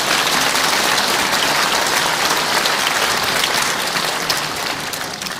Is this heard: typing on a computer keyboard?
no